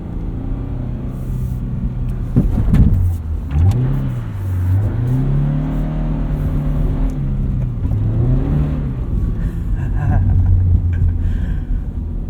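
A lifted 2022 Subaru BRZ drives along a dirt road. Steady engine rumble and road noise rise and fall as it accelerates, with the pitch climbing through the gears from inside the cabin.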